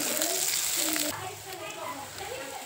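Onion and garlic fry in a pan of hot oil for a home-cooked green leafy vegetable dish, a steady close sizzle that drops slightly in level partway through and continues evenly, with faint background voices.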